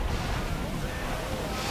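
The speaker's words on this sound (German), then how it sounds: "Ganz schöner Wellengang hier." Rough open sea in Assassin's Creed Freedom Cry, heard from aboard a sailing ship: a constant roar of crashing waves and blustery wind, dense and fairly loud throughout.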